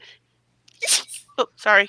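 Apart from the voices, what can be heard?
sneeze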